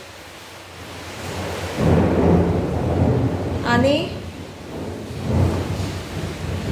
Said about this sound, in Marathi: आमच्याकडे खूप जोरात विजांसह पाऊस सुरू आहे